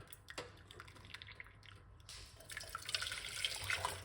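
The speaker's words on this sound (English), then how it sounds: "I'm using some boiling water." Hot boiling water poured into a cup for moringa tea, a faint trickling and splashing stream that grows slightly louder and fuller toward the end, with no talking.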